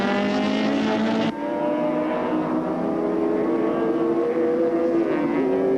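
A 5.7-litre V8 Ford Falcon touring car at Oran Park screams at high revs toward 7,500 rpm, cutting off sharply for a gear change, then winding up again in a sustained, droning whine.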